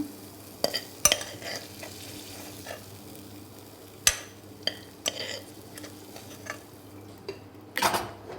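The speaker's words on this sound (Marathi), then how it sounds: "आता ही केळी आपण ही केळी आता आपण काढून घेऊया तुपातनं" Bananas fry in ghee in a pan for rice kheer, a soft sizzle running underneath scattered clinks and scrapes of a spoon stirring against the metal pan.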